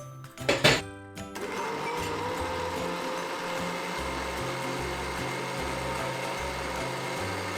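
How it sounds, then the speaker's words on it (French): Electric blender whirring steadily as it purées harira soup ingredients, starting with a short sputter then a continuous, fairly loud motor drone that runs to the end with no talking. "Donc vous allez mixer le tout pour que ça soit assez fin."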